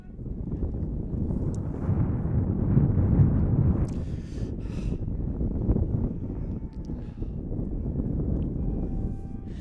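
Gusting wind across open Borden Stadium in Rumson at a high school varsity boys lacrosse game, a loud continuous low rumble buffeting the microphone for several seconds, with faint distant crowd sounds and no clear talk.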